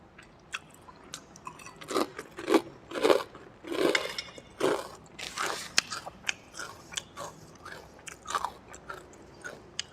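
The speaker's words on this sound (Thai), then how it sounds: "มา กินกันเลย ผัดกะเพราหมูกรอบ" Crispy pork basil stir-fry over rice being eaten close to the microphone, with loud crunching bites and wet chewing in an uneven rhythm, and no talking.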